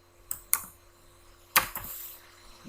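A few separate keystrokes on a computer keyboard, sharp and close, with longer gaps between them in a quiet room.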